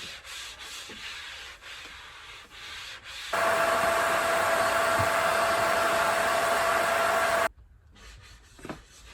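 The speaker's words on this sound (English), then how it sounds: "When you sand off the top of the beads, you reach a fair surface quicker than if you'd covered the whole area." Epoxy filler beads on a carvel-planked boat are power-sanded, first with a soft intermittent rubbing, then a steady loud whirring sanding stretch that stops abruptly, followed by quieter scraping.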